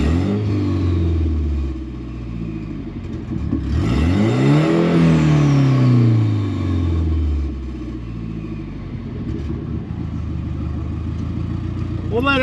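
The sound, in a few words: Nissan S13 car engine idling after starting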